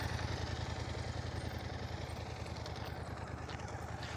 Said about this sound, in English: Andy's motorcycle, it's like a BMW motorcycle. You hear how low his idle is?